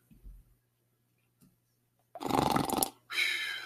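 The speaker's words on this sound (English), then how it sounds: "Even Skype is showing you that the guy is snoring." A man snores over a Skype call, coming through as two rough, loud snore bursts after a few faint breaths, the second one trailing off into a wheezy rasp.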